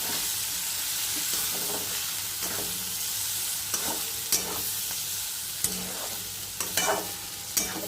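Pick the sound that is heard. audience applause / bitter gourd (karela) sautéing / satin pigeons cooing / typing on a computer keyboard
bitter gourd (karela) sautéing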